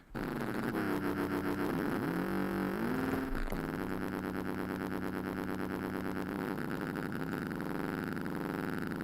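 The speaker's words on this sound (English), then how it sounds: "It is kind of like a rattly drum and bass bass, isn't it?" A rattly drum-and-bass style synth bass, made in Cubase, buzzes loud and continuous with a gritty, pulsing rattle and shifting pitch throughout, alone without voices.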